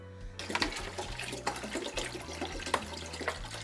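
Plain water pours steadily into a large cooking pot already holding eel and vegetables for eel soup, about four litres filling it, a continuous close rushing splash with no voices.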